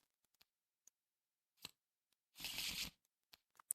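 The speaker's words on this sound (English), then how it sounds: "So we'll go ahead and shuffle everything here." Cards for the Arkham Horror living card game being shuffled, one quiet riffle of about half a second with a few scattered clicks and taps of handled cards before and after, close and alone with no talking.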